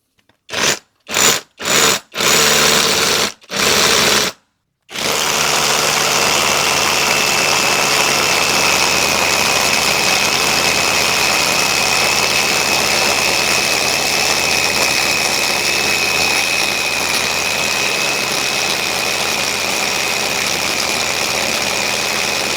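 A Dongcheng DCZC22 cordless rotary hammer drill fitted with a 20 mm bit runs in a steady, loud continuous drone for most of the stretch, after a few short bursts of starts and stops at the beginning.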